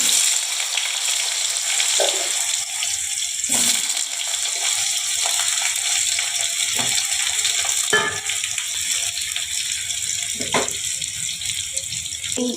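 Diced potatoes sizzle steadily in hot oil in a pan while cooking a vegetarian soybean dhoka dalna, with a constant frying hiss broken by occasional clinks and stirring scrapes.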